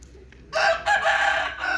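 A rooster of a prized breed crows loudly and close by in a village yard, one long drawn-out call starting after a brief quiet pause and breaking into a second phrase.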